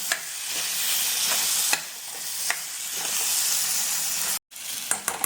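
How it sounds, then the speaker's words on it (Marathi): Boiled matki (moth beans) sizzle in hot oil in a pan for misal, a loud, close, steady frying hiss with periodic stirring scrapes, one short gap near the end, and no speech. "उकडलेली मटकी टाकणार आहोत."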